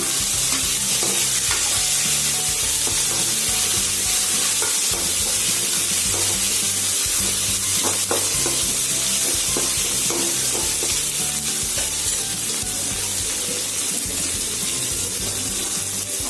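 Small shallots and fresh mint frying in hot oil for mango rice, a loud continuous sizzle with scraping stirs of a spoon across the pan, close and steady with no voices.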